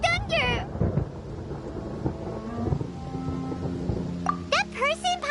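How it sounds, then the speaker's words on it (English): Thunder rolls through a rainstorm in the video game Genshin Impact, a loud, long rumble with steady rain beneath it while voices talk over it at the start and end. "Paimon hears thunder!"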